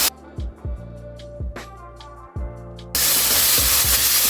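Paneer tossed with Schezwan and tomato chutney in a hot heavy kadhai, a few sharp knocks of a spoon against the pan, then a sudden loud steady hiss of sizzling.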